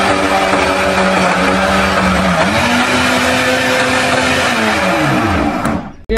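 An electric grinder blends green chutney for a hazm-style digestive chutney, whirring loudly and steadily with a motor pitch that dips and rises as the paste churns, then cuts off abruptly at the end.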